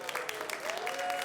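A crowd at a State of the City address applauds city staff, a steady wash of clapping heard faint and distant, with a voice faintly over it.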